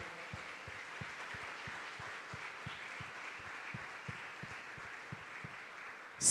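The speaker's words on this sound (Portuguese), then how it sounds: "Vamos aplaudir ao Senhor, porque Ele é bom." A church congregation claps along in a steady rhythm, about two beats per second, soft and distant over a faint room wash, with a brief loud burst at the very end.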